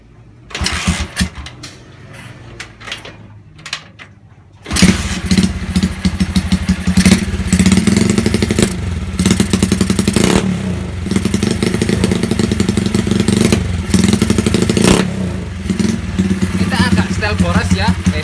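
A Honda GL Pro motorcycle with a bored-up, smoky engine runs and revs loudly after a quieter start, its rough, throbbing exhaust note rising and falling in repeated throttle blips up close.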